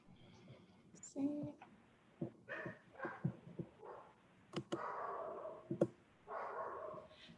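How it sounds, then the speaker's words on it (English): A pet dog barks at a distance in a home during an online meeting, faint, intermittent yaps and short bursts, with no talking over them. "I'm sorry if you can hear my dog just started barking"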